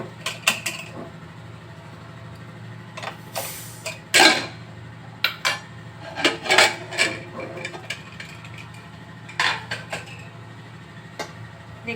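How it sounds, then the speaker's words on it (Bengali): A pressure cooker lid is worked open after cooking a dish of figs with shrimp, giving a close series of sharp metallic clicks, clanks and scrapes spread irregularly over the stretch, with no talking. "কিছুক্ষণ পরে আমরা প্রেসার কুকারের ঢাকনাটা খুলছি।"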